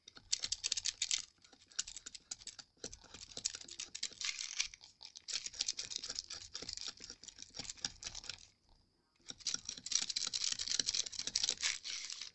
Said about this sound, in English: Don't worry about your knife cutting into this wood.